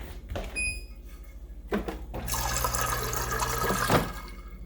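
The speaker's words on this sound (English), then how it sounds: "something that is often overlooked, a splash of water" A splash of water poured into a martini shaker, a short clink followed by a couple of seconds of steady liquid pouring and trickling, close and fairly quiet.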